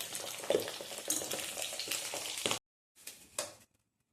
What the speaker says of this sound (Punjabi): ਲੋ ਜੀ ਆਲੇ ਆਪਾਂ ਨੇ ਤੇਲ ਵਿੱਚ ਭੁੰਨੇ ਆ